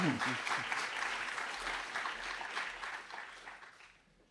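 Audience applause at the MITdesignX pitch and demo event as a team is called up, a dense patter of many hands that gradually tapers off, with a few voices mixed in.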